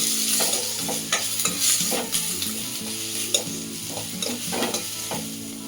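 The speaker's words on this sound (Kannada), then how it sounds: "ಕ್ಯಾಪ್ಸಿಕಮ್ ಆದಮೇಲೆ ಕ್ಯಾರೆಟ್ನ ಫ್ರೈ ಮಾಡಿ." Carrots and capsicum fry and sizzle in a pan while being stirred, with steady crackling and repeated scraping strokes throughout, close and fairly loud with no talking.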